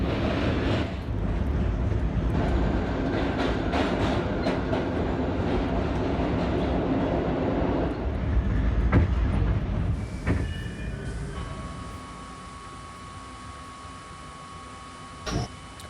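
Riding inside an R38 subway car on the A train: loud rumbling and rattling on the rails with scattered clicks, easing into quieter rolling with a steady tone and brief squeal as the train slows.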